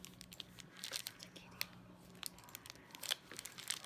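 A small rubber band around a pastel acrylic press-on nail collection is snipped, giving quiet, close crinkly clicks and brief tearing snaps scattered over a few seconds, with no talking.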